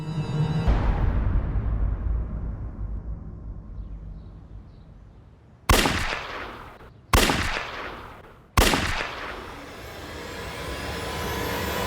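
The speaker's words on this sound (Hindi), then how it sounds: "पड़ोसी ने 3 गन शॉट्स की आवाज सुनी है" Three sharp, loud gunshots ring out inside a house in a TV crime drama, each about a second and a half apart, with echoing decays after a rumbling lead-in.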